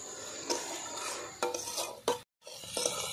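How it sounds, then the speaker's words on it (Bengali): Red lentils are stir-fried with spices, giving a moist sizzle under repeated scraping and clinking of a spoon against the pot. There is a brief silent break, then the stirring resumes. "ভালো করে এবার কষিয়ে নেব একই সঙ্গে।"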